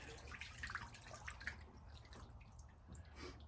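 Water drains out of new collars for logging mules after soaking, heard as faint, scattered drips and a soft trickle over quiet outdoor background noise.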